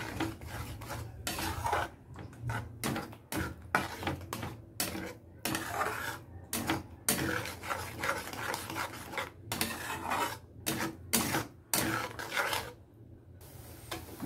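Beaten egg for egg bhurji is mixed in a pan, producing continuous scraping and rubbing strokes of a utensil against the metal, with repeated rasping pulses and brief pauses throughout.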